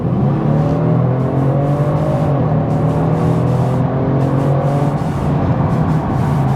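A 2022 Genesis G70 engine pulls hard under acceleration, a steady loud drone rising through the revs across several seconds with no speech.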